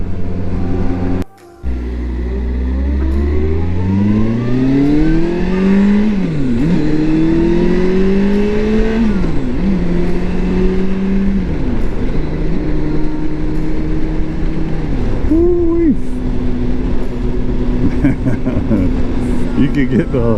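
A 2011 Kawasaki Concours 14 sport-touring motorcycle runs smoothly on the road, its engine note rising steadily through the gears with brief dips at each shift, under constant loud wind rush.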